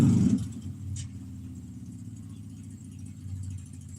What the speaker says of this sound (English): There's someone up there just crunk up their motorcycle.